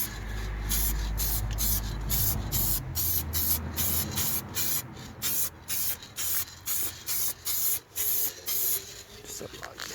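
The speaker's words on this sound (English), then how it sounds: "I love the way this spray pattern works." Short bursts from a silver spray paint can applying a light coat to a Rover 45 car hiss in a steady rhythm, each puff close and crisp, with brief pauses between them.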